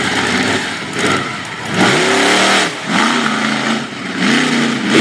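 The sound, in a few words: monster truck engine revving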